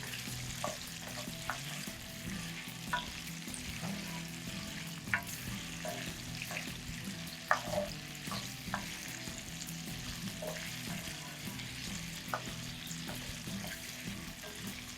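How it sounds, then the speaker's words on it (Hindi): Potatoes for aloo palak fry steadily in a cast iron pan, a continuous close sizzle with occasional sharper pops and faint stirring scrapes, no talking. "ये कितने मज़े से जो है इसमें आलू फ्राई हो रहे हैं, बिल्कुल भी स्टिक नहीं हो रहे हैं, और बहुत अच्छे से इसमें फ्राई हो रहे हैं।"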